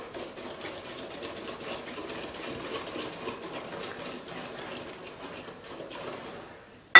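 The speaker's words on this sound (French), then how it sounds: "Il est important de faire en sorte qu'il n'y ait absolument pas de grumeaux, donc il faut beaucoup mélanger." Waffle batter being mixed hard to work out the lumps, a continuous quick rhythmic whisking or beating that stays moderately loud throughout, ending in a sharp knock, with no speech.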